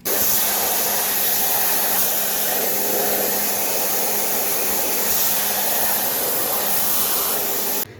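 Pressure washer spray hitting the rear AC evaporator of a Chevrolet Captiva diesel, a steady loud hissing rush that holds unbroken for about eight seconds, then cuts off.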